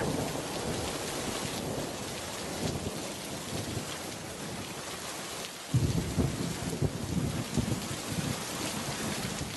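Heavy cartoon rain pours in a steady, loud hiss, with a deep rumble of thunder breaking in about halfway through and lingering under the downpour; no voices.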